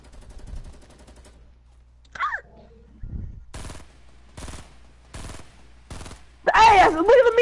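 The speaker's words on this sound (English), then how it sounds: "There's people shooting at me." Bursts of gunfire from players shooting in a video game: five or six evenly spaced broadband blasts, moderately loud, with brief voice sounds and a louder shout near the end.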